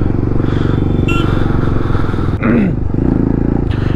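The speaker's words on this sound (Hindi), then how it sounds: "कौन सी बाइक है भाई ये?" Motorcycle engine droning steadily and loud from a rider's onboard perspective on a road, with a brief swell as another bike passes close around the midpoint.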